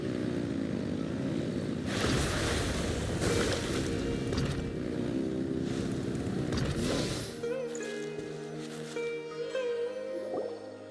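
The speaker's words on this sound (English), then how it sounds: "Rev the engines!" A boat engine revs in the Genshin Impact video game, a dense roaring drone for about seven seconds that gives way to calmer tonal music.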